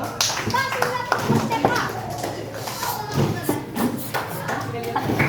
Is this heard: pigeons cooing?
no